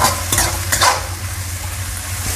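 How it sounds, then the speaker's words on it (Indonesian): Okra and dried shrimp stir-fried in a pan, a steady close sizzle with scraping stirs and a few clinks of a utensil against the pan, no voices. "Dan ini kita tumis sebentar aja ya, karena tadi okranya kan sudah digoreng."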